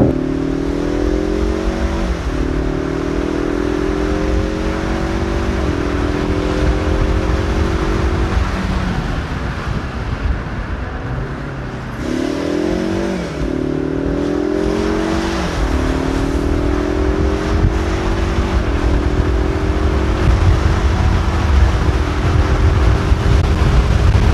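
A Ford Mustang EcoBoost convertible with a 310-horsepower engine revs loudly and up close, its pitch climbing and dropping in repeated waves over about twenty-four seconds.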